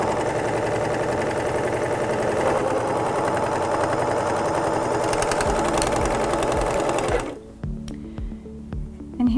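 A Singer S0230 serger stitches a two-thread overedge seam with a steady, fast mechanical whir and rattle that runs loud and close for about seven seconds, then stops, leaving quieter handling noises.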